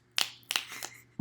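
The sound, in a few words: finger snapping instead of applause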